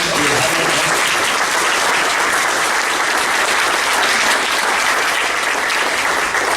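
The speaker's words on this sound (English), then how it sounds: "Let's give another round of applause." Steady, dense applause from a large crowd, loud and continuous throughout, with no voices standing out.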